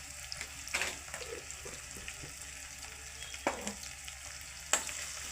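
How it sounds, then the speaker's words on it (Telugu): Ginger paste fries in a pan of hot oil for fish curry, a soft continuous sizzle broken by a few sharp scraping stirs of a spoon, close and fairly quiet. "దీంట్లో కొంచెం అల్లం పేస్ట్ వేస్తాము."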